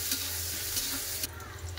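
Green chili frying in oil with chopped onion and whole spices sizzles in a steady close hiss, broken by scraping stirs of a spatula against the pan.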